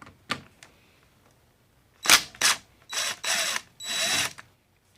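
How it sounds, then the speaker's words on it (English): A power tool whirs in several short bursts, backing out the clutch center bolt of a KTM 50 with a T45 Torx bit, loud and close with brief pauses between spins. "getting the center bolt out is a T45"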